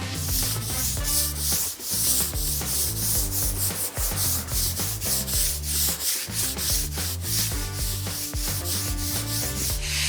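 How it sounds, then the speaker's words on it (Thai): A coconut-frond broom scrubs a car wash floor, giving loud, continuous, rhythmic scraping strokes that fill the whole stretch with no talk. "เราก็จะใช้ไม้กวาดทางมะพร้าวเนาะทำการขัดนะคะ"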